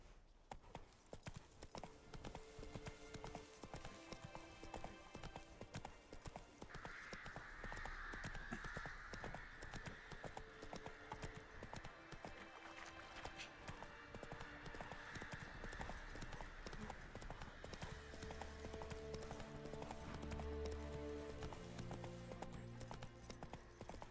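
Horse hooves clip-clop steadily in The Witcher 3, a continuous rhythmic trot over a busy game soundscape with crow-like caws and faint ambient music layered behind it.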